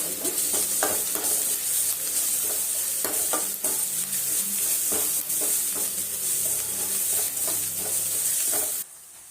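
Tomatoes with salt fry in a hot pan with a steady loud sizzle, while a spoon stirs and scrapes in repeated taps and clinks; the sizzle drops away abruptly at the end.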